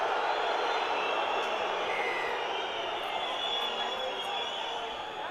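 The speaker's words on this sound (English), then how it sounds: "the home crowd screaming to have him sent to the sin bin" A home crowd screams and roars at a 2010 Catalan versus Wigan rugby league match, a dense, loud, steady wash of stadium noise easing slightly at the end.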